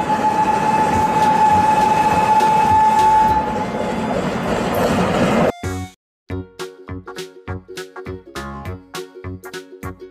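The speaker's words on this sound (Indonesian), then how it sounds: "Kereta api." A rumbling train passing steadily with a tonal whine, then cutting to rhythmic clanking wheel beats and metallic hits, loud and near.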